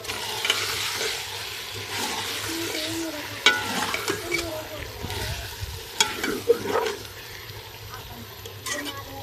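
Potato and eggplant curry being stirred and sautéed in a pan, with scraping spoon strokes and a low continuous sizzle, close by, while someone talks at intervals.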